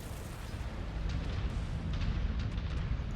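Missile blasts in the Merc Life combat game make a continuous heavy roar of booming explosions, loud and rumbling, with a few sharper bursts punching through the dense low-end wash.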